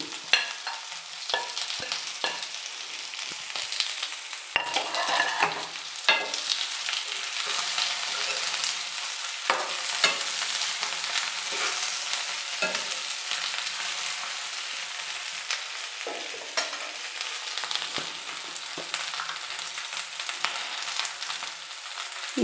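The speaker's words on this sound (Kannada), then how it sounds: "ಜೊತೆಗೇ ನಾನು ಫ್ರೈ ಮಾಡಿರೋ ಬೆಂಡೆಕಾಯಿನೂ ಸೇರಿಸ್ತಾ ಇದ್ದೀನಿ" Fried okra and boiled potatoes frying in a pan for a stir-fry, a steady bright sizzle with frequent scraping and clinking of a spatula stirring close by, no talking.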